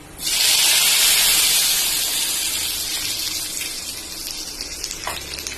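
Hot tempering hits a pot of sambar and bursts into a loud, hissing sizzle that starts suddenly, then slowly settles into a steady fizz, with a faint clink near the end.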